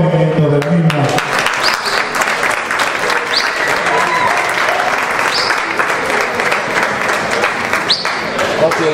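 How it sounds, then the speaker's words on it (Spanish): Loud crowd applause for a section champion at a livestock morphology contest during the Villamartín fair, dense continuous clapping with brief voices mixed in near the start. "Un fuerte aplauso a la campeona de la sección y a los mejores movimientos de la misma"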